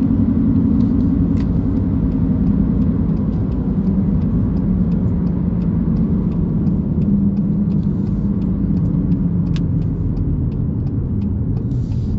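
A big car's engine rumbles steadily and close, a constant low drone with faint ticking above it and no voices.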